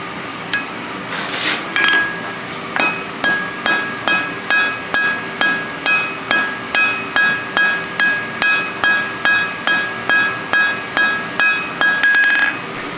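A blacksmith hammers hot steel in a guillotine tool on a small anvil, striking about two dozen loud, evenly spaced metallic blows with a ringing tone that hangs between hits.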